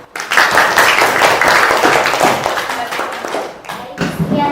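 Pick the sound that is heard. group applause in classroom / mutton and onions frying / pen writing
group applause in classroom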